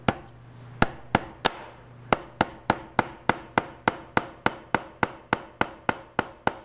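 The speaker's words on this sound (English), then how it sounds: "So you can hammer them in." Steady series of sharp hammer taps driving metal zither pins into a wooden fireside harp, about seventeen evenly spaced close strikes with brief ringing decay.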